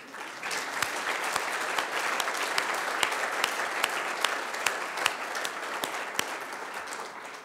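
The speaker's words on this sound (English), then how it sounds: "I think this deserves a round of applause too" Conference audience at an urban development event breaks into sustained applause, a dense, even patter of many hands with a few sharper individual claps standing out, holding steady for several seconds.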